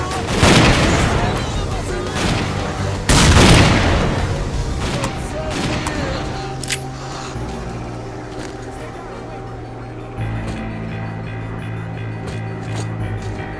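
In the shooter game S.T.A.L.K.E.R.: Clear Sky, two loud booming blasts from a grenade and gunfire hit close together early on, then the noise fades into a lower rumbling tail with game sounds and voices.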